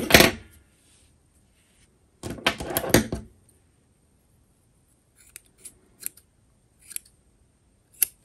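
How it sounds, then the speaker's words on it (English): Scissors snipping the yarn ends of a herringbone single crochet blanket, with a close burst of cutting at the start and another around two seconds, followed by several quiet isolated snips and clicks. "So you want to cut all of the ends."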